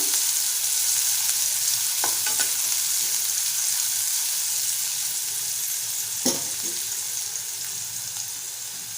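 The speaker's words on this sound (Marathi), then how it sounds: "एक 2 मिनिटं आपल्याला कांदा परतवायचा आहे।" Onion sautéing in a pan for Malvani-style fenugreek leaf stir-fry, a steady broadband sizzle running the whole time with a few light clicks of a spatula stirring, close and fairly loud with no talking.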